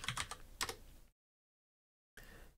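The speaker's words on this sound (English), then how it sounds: "So you type init disk" Close, quiet keystrokes on an Apple II computer keyboard come in a quick burst of several clicks, a silent gap, then a few more presses.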